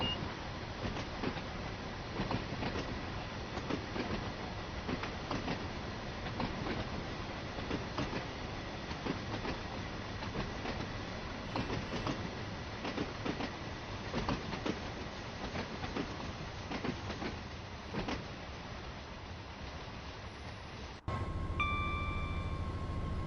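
Freight train container wagons rolling steadily in Train Sim World 4, a continuous clickety-clack rumble of wheels on rail joints at moderate distance, with no talk.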